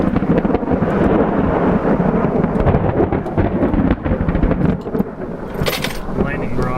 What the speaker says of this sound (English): Lightning barrage might be starting.